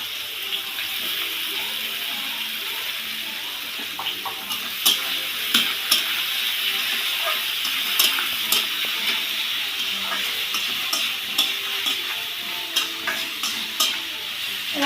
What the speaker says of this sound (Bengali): এবার দিয়ে দেবো তরকারিগুলো, ডাঁটা, পটল, আলু যেটা কেটে রেখেছিলাম সেটা দিয়ে দেবো